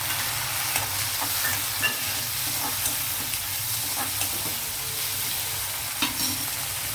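Tomatoes tipped into onions already frying in a pan, a steady close sizzle running throughout with faint scraping and stirring clicks, no voices.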